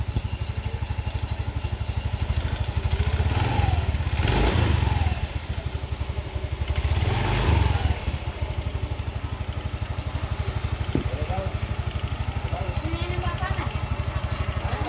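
A Yamaha Mio 125 scooter engine with a freshly fitted drive belt idles with a rapid putter, then revs up twice in rising, raspy surges before settling back to idle, close and loud, with someone talking briefly.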